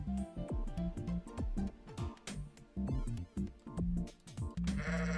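Sheep bleat in a video game, several short, close bleats repeating in a quick rhythm over a busy musical game soundtrack.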